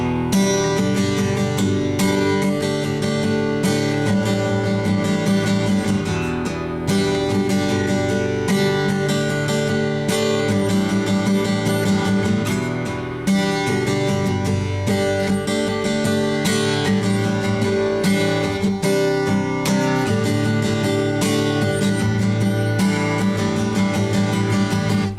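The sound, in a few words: guitar playing verse chords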